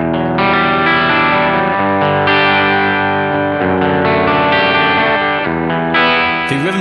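A heavily distorted electric guitar plays sustained chords through a Peavey 6505+ 112 combo amp's rhythm channel, loud and saturated, with chord changes every second or so and no voices.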